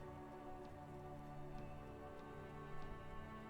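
Steady rain falls over a police precinct building in Disco Elysium, a soft continuous patter with faint drop ticks, layered under a low sustained ambient drone.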